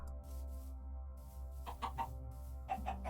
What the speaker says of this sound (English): They're extremely free-range chickens.